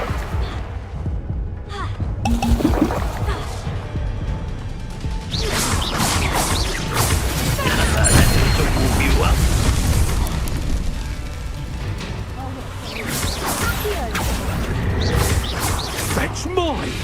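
Confringo fire spell explosions in the wizarding video game Hogwarts Legacy burst in loud, crashing blasts with heavy rumbling impacts during a combat scene, voices talking over the fight.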